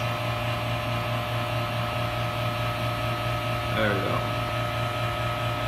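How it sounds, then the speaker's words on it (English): Vacuum pump running on a clear acrylic vacuum pressure chamber, a steady humming drone with a constant low tone, heard close throughout while someone says a few words near the end. "you can turn your pump off"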